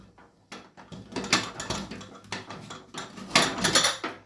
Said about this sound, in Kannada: ಈಗ ಅದನ್ನು ಕುಕ್ಕರ್ ಓಪನ್ ಮಾಡ್ತೀನಿ ನೋಡ್ರಿ